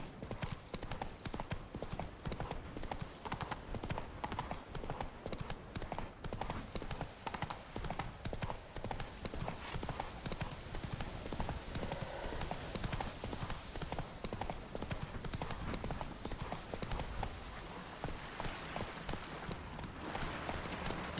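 Horse hooves galloping in The Witcher 3, a steady dense clip-clop of running hoofbeats that continues unbroken for the whole stretch, with occasional faint snorts and no talking.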